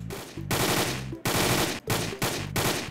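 Automatic gunfire in a Roblox shooter game, loud rapid bursts of dense rattling shots broken by short pauses, close and harsh with no talk over it.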